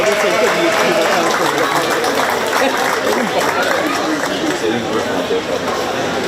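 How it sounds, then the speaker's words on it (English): A crowd at a county fair 4-H sheep and goat show gives a round of applause, with steady, dense clapping mixed with crowd chatter and voices throughout. "Let's give these gals a round of applause."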